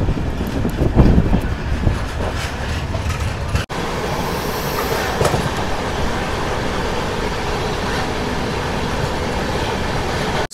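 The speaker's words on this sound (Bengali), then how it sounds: "ইচ্ছাপুরম থেকে আমাদের ট্রেন ছেড়ে দিল 1 নম্বর প্ল্যাটফর্ম থেকে।" Train 12839 Chennai Mail runs steadily on the tracks after leaving a station, a loud continuous rumble and rattle heard from inside the carriage, with a brief dip partway through.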